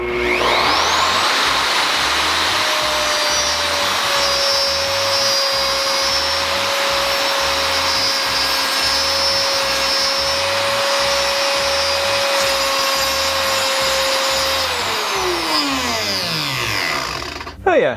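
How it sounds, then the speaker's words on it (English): WEN RT6033 plunge router spinning up and cutting with a 1/2 inch dovetail bit along a guide fence, a loud steady whine held for about fifteen seconds before it winds down. "Now I'm going to swap over to a 1/2 inch dovetail with the guide fence to see how straight it'll cut."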